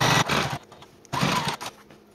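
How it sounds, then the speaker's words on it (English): A sewing machine stitches along the bottom edge of fabric with an 1/8 inch seam, running in two close, steady bursts separated by a short pause. "We also wanna sew this bottom edge here in place with an 1/8 inch seam allowance."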